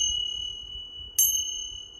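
A single meditation bell chimes during a guided meditation, struck once and ringing on with a clear, sustained metallic tone that slowly fades over quiet low background noise.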